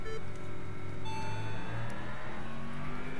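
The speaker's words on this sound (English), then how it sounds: "it's close enough to a proper Impreza sound" Subaru Impreza engine sound from the racing video game Import Tuner Challenge, a steady droning hum with gradually shifting engine tones, held at a constant level with no talk.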